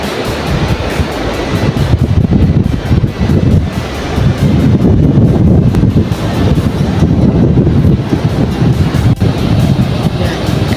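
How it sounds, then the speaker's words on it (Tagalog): Wind buffets the microphone steadily over a constant roar of ocean surf at a seaside spot in Ilocos Sur, loud and continuous, with no clear speech. "Karagatan."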